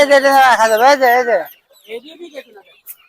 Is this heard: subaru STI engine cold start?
no